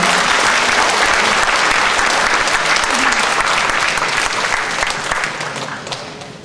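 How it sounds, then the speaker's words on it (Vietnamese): An audience at a literary anniversary event applauds a writer and poet with loud, dense clapping that gradually fades toward the end. "Một tràng pháo tay thật lớn"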